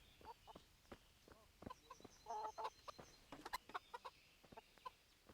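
Chickens in the medieval video game Kingdom Come Deliverance make a series of short, irregular clucks and squawks at moderate volume, some bunched in quick bursts, over quiet ambient background.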